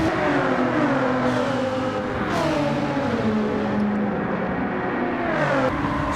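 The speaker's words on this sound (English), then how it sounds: "another car should get past us in the meantime" Race-car engines in a Gran Turismo 7 daily race drone steadily and loudly, with pitch sweeping up and down as gears change and other cars close in, all without speech.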